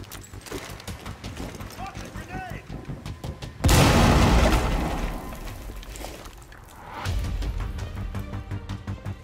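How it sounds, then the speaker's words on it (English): A grenade goes off in the tactical shooter Rainbow Six Siege, a sudden loud blast that rumbles for about two seconds, then a second, duller impact, while gameplay footsteps and effects clatter around it. "Should I clear it with a grenade?"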